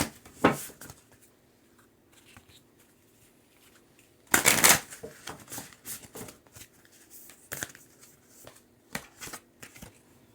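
Tarot cards being shuffled by hand in a quiet room, soft intermittent riffles and taps with one loud, dense burst of shuffling in the middle and scattered card flicks afterwards.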